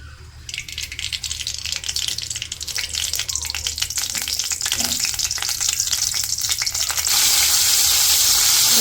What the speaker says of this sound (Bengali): আর এই পাশে চুলায় কড়াই দিয়ে দিছি, এখন হচ্ছে তেল দিয়ে দিই।